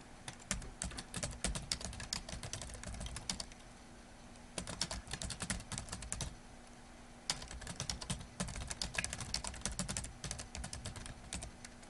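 Steady typing of homework sentences on a computer keyboard, dense rapid clicking in bursts with brief pauses between phrases, close and clear with no talking.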